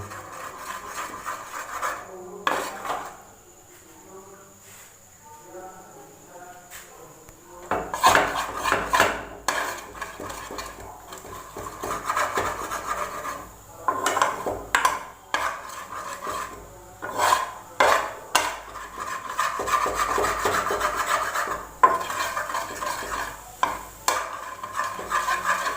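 Egg bhujia being scrambled in a pan, with a spatula scraping and stirring against the metal: quieter scratchy strokes at first, then louder, busier rasping and clinking that continues steadily. No voices.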